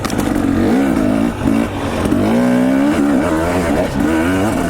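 Dirt bike ridden over desert terrain near St. George, its engine revving loud and close with rising and falling pitch as the throttle opens and eases, continuous throughout.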